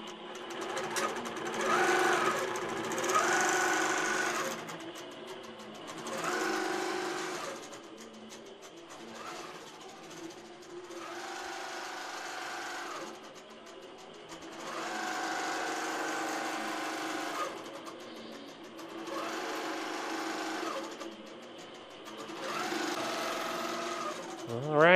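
An INNOVA longarm sewing machine stitches an edge-to-edge quilting pattern, its steady mechanical hum running in long stretches that rise and fall in loudness, with a voice talking over it.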